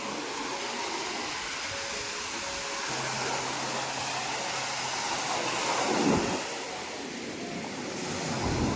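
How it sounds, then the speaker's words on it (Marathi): Sea waves roll and break on the shore in a continuous roar, swelling to a louder crash midway, with wind rushing over the microphone. "तर समुद्र बघू शकता आणि लाटा लय भारी वाटतात"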